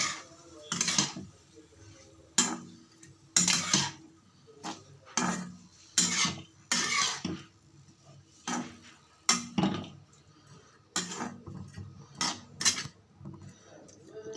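Bitter gourd being fried in a kadai, with sharp, irregular clinks and taps of a spatula against the metal pan over a quiet background, some strokes rapid and others spaced apart.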